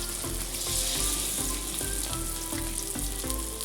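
Cauliflower pieces for Gobi Manchurian frying in hot oil, a loud continuous sizzle with crackling, heard alone and close over steady background music.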